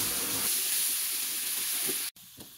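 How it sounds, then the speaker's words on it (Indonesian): Ground spice paste sizzles and hisses steadily in hot cooking oil as it is stir-fried, a bright continuous crackle that cuts off abruptly near the end before a quieter hiss resumes. "kemudian kita tumis bumbu halus"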